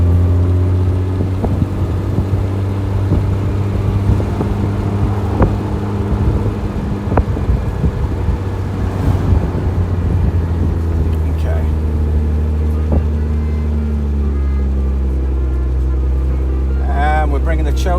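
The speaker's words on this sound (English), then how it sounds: "As soon as we get into second gear, a lot smoother," Jaguar E-Type engine running steadily in second gear, a smooth low continuous drone from inside the car, with someone talking over it throughout.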